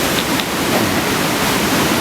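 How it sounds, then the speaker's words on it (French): Powerful, high ocean waves crash against rocks along a Hawaiian shoreline, making a loud, continuous roar of surf and spray with no break or distinct individual impacts. "C'est tellement impressionnant à cause de la puissance des vagues, la hauteur des vagues."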